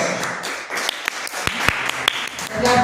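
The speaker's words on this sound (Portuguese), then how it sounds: "que as palmas vão ao Senhor Jesus." Church congregation applauding after a speaker hands over to the pastor, a steady patter of many hands with sharper individual claps, moderately loud and continuous.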